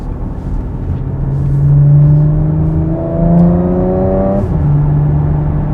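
A Porsche Macan GTS with its sports exhaust engaged drones and climbs in pitch as it accelerates, shifting gears with rising and falling exhaust tones, fairly close and loud.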